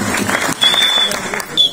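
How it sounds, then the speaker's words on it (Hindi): Brief burst of audience clapping at a community award show in Attock hosted by a singer, a loud scattered patter with a thin whistling tone riding above it. "मैं आपसे गुजारिश करूंगा कि एक बार भरपूर तालियां बजाएं"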